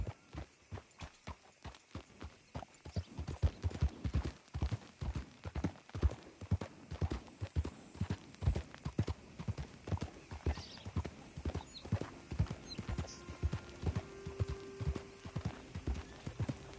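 Horse hooves clip-clop at a steady walking rhythm in Red Dead Redemption 2, close and continuous, with a faint game-world ambience and some tonal sounds toward the end.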